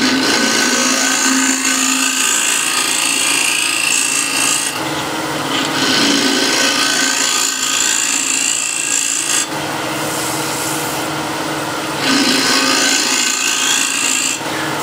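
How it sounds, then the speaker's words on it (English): A hand scraper rasps across wood, shaping a slightly concave surface in steady repeated strokes, loud and close, with brief pauses between passes. "I'm using a scraper."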